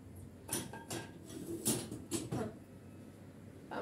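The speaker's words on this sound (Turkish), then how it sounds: "Ben bulaşıklarımı da yerleştireyim." Dishes clink and clatter as they are set down one after another, a few sharp ceramic knocks spaced irregularly in a quiet room.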